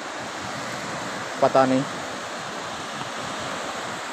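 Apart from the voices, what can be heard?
sea waves crashing on the shore in Karachi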